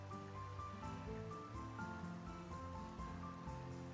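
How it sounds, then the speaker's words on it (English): Water trickles gently over rocks in a calm video game scene, a soft steady babble of flowing water with a quiet musical backdrop and no talking. "You can hear the water trickling over the rocks."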